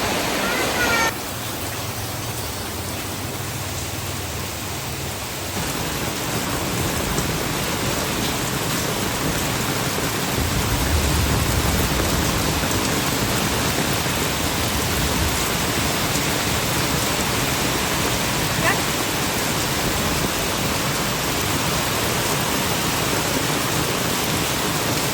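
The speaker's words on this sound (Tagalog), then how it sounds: "Ang lakas ng ulan!" Heavy rain pours in a dense, continuous hiss on a rainy day, loud and unbroken, swelling slightly partway through.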